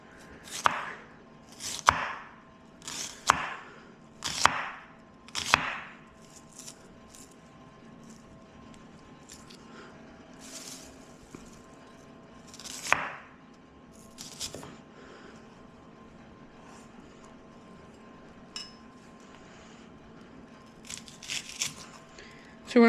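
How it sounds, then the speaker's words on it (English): Knife chopping an onion and a pepper small on a cutting board, a cluster of sharp, close chops early on, then scattered, quieter cuts with pauses. "So we're gonna cut this onion pretty small, and then same with the pepper"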